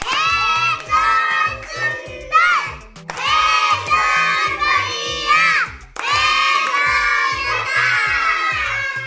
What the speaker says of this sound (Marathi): शिवराजसाठी जोरदार टाळ्या वाजवा.